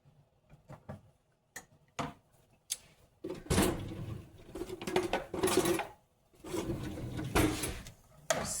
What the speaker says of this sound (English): Stirring those onions around a little bit.